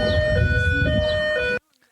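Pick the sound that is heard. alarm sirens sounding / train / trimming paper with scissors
alarm sirens sounding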